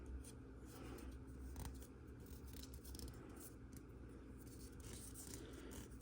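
Scissors trimming a paper sticker for a Fanhome Millennium Falcon model kit, a soft, close snipping and faint scraping over a steady room hiss, with no talking.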